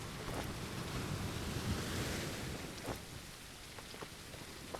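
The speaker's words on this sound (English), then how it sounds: "It's kind of in a storm" Heavy storm rain pours steadily in a survival game set on a deserted island, a dense continuous hiss with gusting wind and faint scattered patters, no voices.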